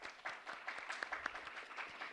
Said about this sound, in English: Amazing round of applause for them.